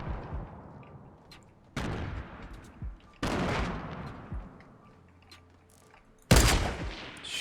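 Gunfire from the battle royale game Fortnite rings out in several sharp, loud volleys, with bursts spaced a second or two apart, each one booming and then trailing off into a softer reverberant tail.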